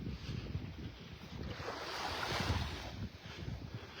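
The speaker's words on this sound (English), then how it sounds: "Nothing to block that wind coming out of the east." Strong east wind gusts across an open beach point at a pass on the Gulf shore in North Naples, Florida, roaring steadily against the microphone over distant surf, with no voices.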